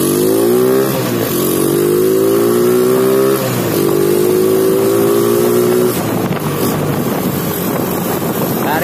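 A Yamaha Jupiter Z motorcycle with a 1.8 mm cut magnet and stock carburettor revs hard on test, its engine note climbing through repeated pulls, loud and close with wind buffeting the microphone.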